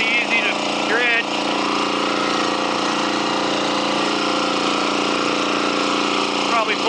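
A gold dredge engine drones steadily and loudly while sand is shoveled into its intake, a constant mechanical roar with a voice briefly audible over it.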